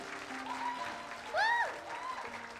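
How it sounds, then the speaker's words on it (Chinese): Audience at a youth Sunday church service clapping, a steady moderate patter of many hands in a room, with a brief whistle-like tone rising over it midway. "好，掌声不要停啊！"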